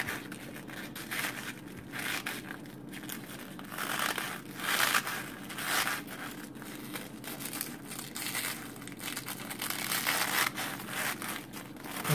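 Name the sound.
peeling back tough artichoke leaves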